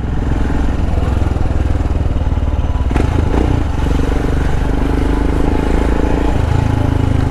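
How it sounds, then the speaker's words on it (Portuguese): Air- and oil-cooled 2021 Royal Enfield Himalayan motorcycle engine running while riding, a loud steady single-cylinder thrum throughout with wind buffeting and a rider's voice over it. "É uma moto refrigerada a ar e óleo"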